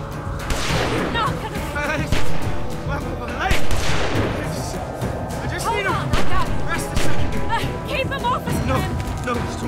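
Gunshots in The Walking Dead video game crack out in bursts amid loud chaotic action, with several sharp reports mixed under frantic shouting voices.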